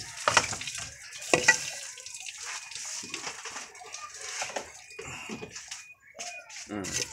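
Fish being washed by hand under running water, a steady tap stream with splashing and handling sounds, under a man's speech.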